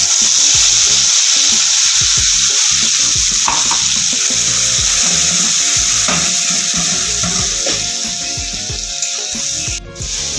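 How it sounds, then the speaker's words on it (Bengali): Ground spice paste hits hot oil with black cumin in a pan for a Bengali morola fish jhal, giving a loud, steady, close sizzle with stirring scrapes throughout and no talking. "বাটা মশলাটা দিয়ে দিচ্ছি।"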